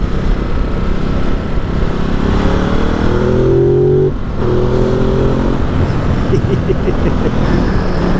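A Ducati Multistrada 950 motorcycle being ridden, its engine droning steadily and loud throughout with wind roar, rising in pitch around a brief dip midway as it accelerates again.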